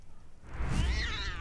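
A cat meows once in a Harry Potter video game, a short, fairly close call rising out of quiet room tone and lasting under a second.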